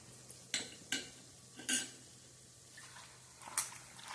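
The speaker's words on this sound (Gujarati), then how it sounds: "હવે આપણે એમાં નાખીશું રીંગણા" Eggplant pieces tipped into hot spiced oil in a pan while cooking a Gujarati fenugreek-and-eggplant curry give a few sharp clatters and soft spoon-on-pan scrapes, with faint frying hiss between them, close and fairly quiet.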